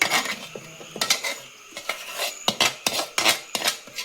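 A spoon mixing masala into boiled tapioca for Kerala-style kappa biryani, with repeated scraping clinks and knocks against the pot in an uneven rhythm, close and fairly loud, with no talking.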